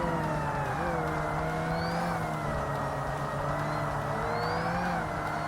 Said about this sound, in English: See how a race car drives for the first time